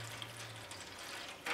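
Beet dye liquid poured into a container, a steady close watery splash and trickle running throughout, briefly louder at the very end.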